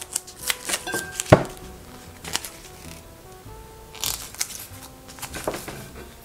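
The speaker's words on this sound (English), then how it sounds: "it's just a matter of peeling the label" The label is peeled off a wine bottle from a home wine kit, heard as quiet, close crinkling and papery tearing with a few sharp ticks and rustles spread across the moment.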